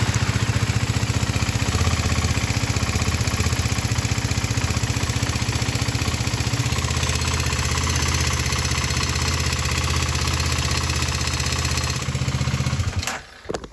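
Motorcycle engine running steadily after a fuel-system fix, a loud, close, continuous idle with a low throbbing pulse for about twelve seconds before it cuts off abruptly.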